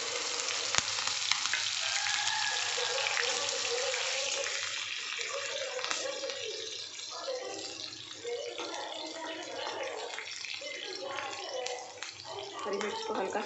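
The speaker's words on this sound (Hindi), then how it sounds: "देखिए हमारे जीरे और राई भून गए हैं, अब हम इसमें हरी मिर्च डालेंगे।" Green chillies dropped into cumin and mustard seeds sizzling in hot oil, a continuous dense crackle with bursts of spattering and a sharp clack near the start, heard up close for several seconds without talk.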